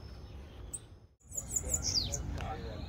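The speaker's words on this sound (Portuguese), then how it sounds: "Tem passarinho cantando." Small sibite birds chirp on a rural farm in Brazil in a quick run of high tweets after a brief lull, over a low outdoor background.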